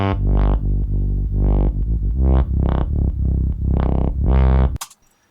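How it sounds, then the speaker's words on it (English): A MIDI synth bass from the Mojito plugin in Studio One plays a run of about eight sustained, buzzy notes in steady rhythm, loud and alone, then cuts off with a brief burst of noise. "Then we have this bass here, which I originally created here as a MIDI bass,"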